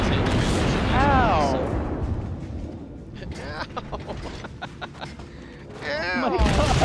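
Naval gun salvos and shell hits in World of Warships while steering the Murmansk cruiser: a rapid cluster of sharp booms and cracks, with someone talking excitedly before and after.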